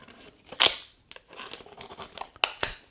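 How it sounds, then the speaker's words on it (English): Scissors snip and tear through a cardboard box while unboxing Josh.ai Nano devices, giving a few sharp, close cuts and rustles spread over a few seconds in a quiet room. "See if I can not cut the box itself."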